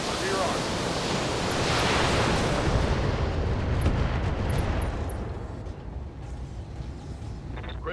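Heavy mech weapons fire in the BattleTech video game, a loud roaring blast of noise that swells over the first few seconds and then slowly fades into a rumbling decay.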